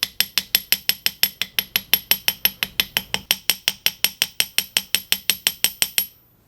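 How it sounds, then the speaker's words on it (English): Rapid, steady hammer blows from a cross peen hammer drawing out the tip of a hand-forged Calla Lily ring on metal, about thirty sharp ringing strikes in even rhythm, close and loud, then stopping. "I'm going to extend just this tip out a little bit with my cross peen"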